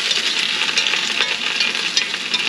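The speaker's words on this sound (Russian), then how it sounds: "На хорошем огне" Steady, dense sizzling of pork pieces frying uncovered over high heat in a hot pan for sweet-and-sour guo bao rou, continuous and fairly loud with faint crackles throughout.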